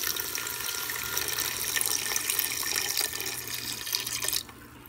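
Water pours steadily from a cup into a very hot pan of chicken tikka masala sauce, a continuous close hissing splash and bubbling that stops abruptly near the end.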